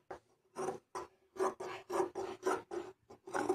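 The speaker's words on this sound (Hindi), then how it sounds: "इसको एक्स्ट्रा कपड़े को कट करेंगे इसके अंदर से" Scissors snip away extra fabric in a series of about ten short, close cutting strokes, each a crisp rasp with brief pauses between.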